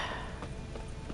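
Horse hooves clip-clopping at a steady trot in the video game The Witcher 3, a short run of muffled, evenly spaced beats over a low continuous background.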